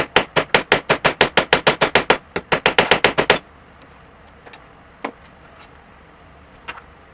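Rapid series of sharp hammer blows on a Jaguar door panel, about twenty in quick rhythm with a short pause, then quiet with a couple of faint knocks.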